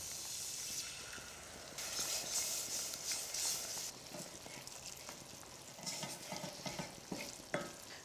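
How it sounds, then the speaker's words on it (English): Milk is poured gradually into a flour roux cooking in a pan for lasagne, giving a close, steady sizzle and bubbling with stirring scrapes that grow busier toward the end. "So now we need to add our milk, but gradually."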